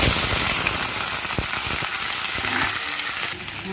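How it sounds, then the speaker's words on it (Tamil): Ivy gourd pieces frying in hot oil in a pan make a dense, crackling sizzle up close, steady throughout and easing slightly toward the end, with a few light stirring clinks. "இதில் வந்து இப்போ கோவக்காய் போட்டு ஃப்ரை பண்ணுங்க"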